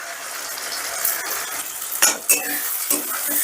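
Onions frying in a pan until lightly reddened for Hyderabadi chicken kosha, a steady close sizzle broken by a few sharp scrapes and clinks of a spoon stirring against the metal.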